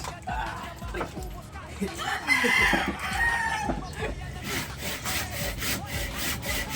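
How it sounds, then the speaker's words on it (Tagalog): A hand saw works through wood in quick rasping strokes close by, while people talk nearby and a rooster crows in the background. "Naglalagari."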